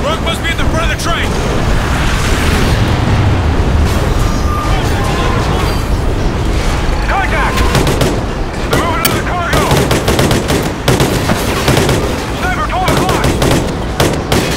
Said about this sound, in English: Contact! They're moving to the cargo! Suppressing fire!